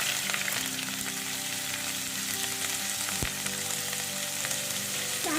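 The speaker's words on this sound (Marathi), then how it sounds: "कांदा लालसर होईपर्यंत आपल्याला छान परतून घ्यायचा आहे." Onion sautéing in oil in a kadai for mushroom masala, a constant soft sizzling hiss at close range, steady throughout with one brief knock, no talking.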